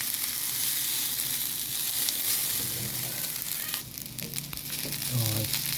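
Leftover cooked rice stir-frying in garlic-infused oil in a pan, a steady close sizzle throughout with brief scraping and stirring noises partway through.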